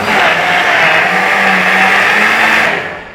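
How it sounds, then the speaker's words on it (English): A blender whirs loudly and steadily, blending oil, psyllium husk and salt for a plant-based egg scramble mix, then cuts off just before the end. "We put a lid on and we blend."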